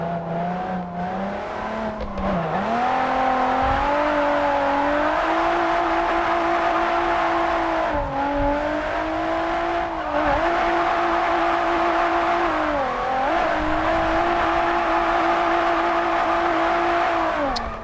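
A Mazda MX-5 engine drones and revs in JDM Japanese Drift Master while drifting, loud and close, the pitch dipping and rising repeatedly as the car slides through turns, with faint tire squeal and no speech.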